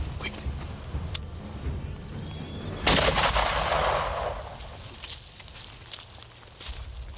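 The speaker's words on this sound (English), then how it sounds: "I put my crosshairs right on its rear, and I shoot, and it's instantly down." A single loud rifle shot cracks out while hunting a ram on safari, followed by a fading echo, with quiet outdoor background before and after.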